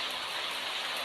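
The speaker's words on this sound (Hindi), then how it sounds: "बारिश तेज होती जा रही है" Heavy rain falling beside a pond, a steady dense patter and wash, fairly faint and unbroken, with no voices.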